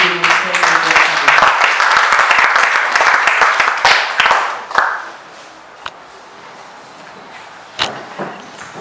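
A church congregation at a charismatic renewal service bursts into loud sustained applause for several seconds, which then fades to scattered claps and quiet room noise.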